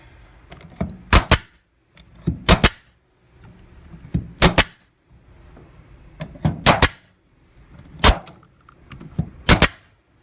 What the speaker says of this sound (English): so we're just going to take the nailer